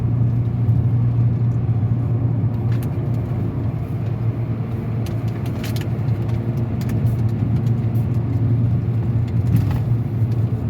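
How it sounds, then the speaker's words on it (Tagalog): Steady road traffic on the Skyway elevated expressway near Parañaque, a continuous low engine and tyre rumble with vehicles passing at moderate speed, no talking. "Mapapansin nyo, hindi naman ganun kabilisan yung mga sasakyan dito."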